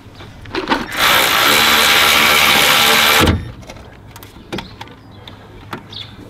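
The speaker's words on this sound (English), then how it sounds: "So I'm gonna use an electric ratchet to tighten it" An electric ratchet tightens a brake caliper bolt on a Mitsubishi ASX, a loud steady whirring burst of about two seconds, framed by a few light clicks and handling knocks.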